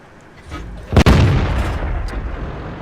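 A single loud tank cannon blast in World of Tanks hits sharply near the one-second mark, then a rumbling boom fades slowly under the ongoing battle noise.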